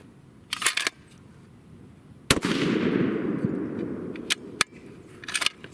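A single sharp, loud shot from a custom 7mm PRC rifle firing a Berger 195gr bullet over 66 grains of H1000 powder. A long rumbling tail fades for about two seconds, framed by faint clicks before and after.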